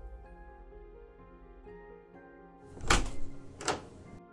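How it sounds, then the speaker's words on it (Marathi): Two sharp thuds from a door close by, a second apart, over soft background music. "तसं सिस्टरने जाऊन दरवाजा उघडला."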